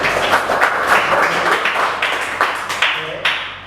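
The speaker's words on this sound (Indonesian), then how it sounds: "Tepuk tangan untuk semuanya." A classroom applauds together for everyone during a teachers' lesson on tolerance of ethnicity, race and religion, a short burst of steady clapping that thins toward the end.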